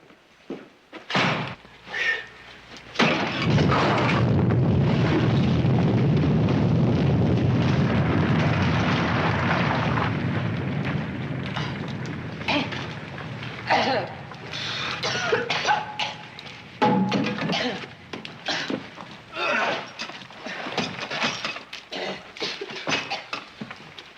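Deep roaring earthquake rumble in a Western TV drama, a loud sustained crash and rumble lasting several seconds after a few sharp bangs, then fading into scattered thuds, bursts of debris and cries.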